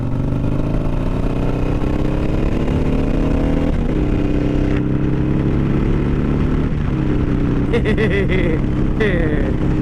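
Harley-Davidson Iron 883 motorcycle ridden on the road, its engine droning steadily with shifting pitch and wind rush, close and loud, with a voice talking over it.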